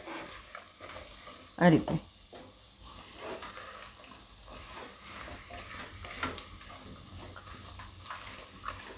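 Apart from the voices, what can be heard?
stirring potatoes into onions in a pan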